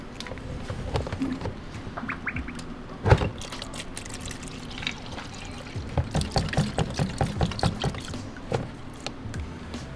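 Fluid draining and pouring in the engine bay of a VW GTI, a close trickling and splashing flow broken by handling clunks and a bump.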